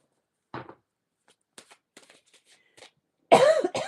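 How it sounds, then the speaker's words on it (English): One close cough at the start, then faint small clicks and shuffles, and a louder throaty burst at the end. "Why am I getting cough all of a sudden?"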